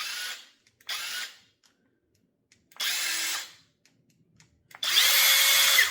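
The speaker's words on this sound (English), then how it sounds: "I just think it's cool when you pick up a drill and it scares you" A Flex cordless impact driver with a stacked lithium battery whirs in four short bursts separated by silence, the last burst longest and loudest, heard up close.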